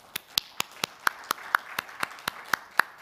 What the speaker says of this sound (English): please join me in thanking this excellent panel with a big round of applause